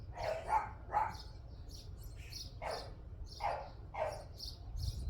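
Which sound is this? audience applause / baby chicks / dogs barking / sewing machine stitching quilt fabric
dogs barking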